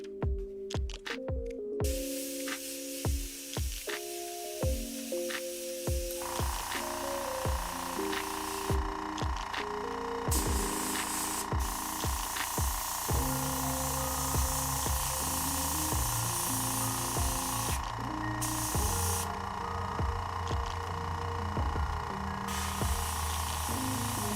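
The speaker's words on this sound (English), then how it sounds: "And then very carefully spraying the new color in." Paint sprays from an airbrush nozzle in a steady, loud broadband hiss that runs almost continuously, briefly stopping and restarting, over a bed of background music.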